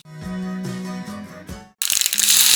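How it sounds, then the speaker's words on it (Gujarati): Sesame seeds crackle and pop in a ladle of hot oil for tempering palak sabji, a sudden loud, dense sputter close up that follows a stretch of voiced tones. "તલ ફોડીએ છીએ"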